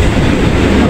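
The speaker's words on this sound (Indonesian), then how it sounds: "saat ini saya sedang di kereta makan" Loud, steady rumble and rattle of a running train heard from inside the dining car of an Indonesian passenger train between Jakarta and Yogyakarta, a short continuous burst with no talk.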